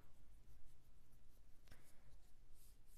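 A pen scratches across paper while math worksheet answers are written out, with soft continuous strokes and one brief sharper tap, very quiet and close with no talking.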